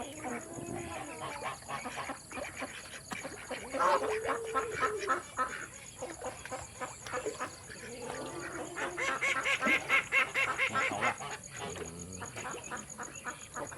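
Loud, busy honking and quacking from a flock of ducks on a farm, overlapping calls rising and falling continuously across the whole stretch.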